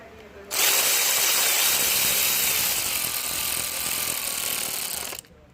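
A power tool tightens bolts on a 2011–2012 Jaguar XF 5.0 engine during head gasket and timing chain repair, giving a loud, close whir that lasts about five seconds before cutting off.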